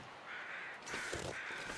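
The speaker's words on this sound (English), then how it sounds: "Okay, I'm hearing a lot of crows." Crows in the survival game The Long Dark caw three or four times in quick succession, harsh and moderately close, set against a quiet wintry background.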